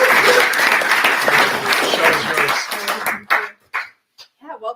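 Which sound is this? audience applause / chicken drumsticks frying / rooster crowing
audience applause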